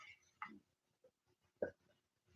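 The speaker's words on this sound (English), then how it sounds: "You burped again." A dog lets out a couple of short, throaty burps, separated by about a second, quiet and close in an otherwise hushed room.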